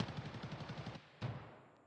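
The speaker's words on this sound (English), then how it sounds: "Literally all the gunshots sound like they're coming down this street." Rapid bursts of automatic gunfire in a video game, a fast rattling volley followed by a brief pause and one more loud shot, heard fairly faint with no talking.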